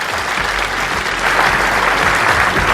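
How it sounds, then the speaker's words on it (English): Audience applause at a TechEd New Zealand 2013 keynote, steady dense clapping from a large hall crowd that swells slightly toward the end, with no talk over it. "Give him a round of applause,"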